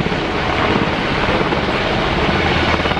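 A dense, steady combat helicopter rotor roar in a video game fills the scene, broad and rumbling without letting up, with no voices.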